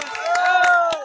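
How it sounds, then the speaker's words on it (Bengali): An audience claps in a few sharp, scattered bursts at a live stage performance, while a sustained singing voice carries on over the claps. "সবাই হাততালি দেবো ভাই।"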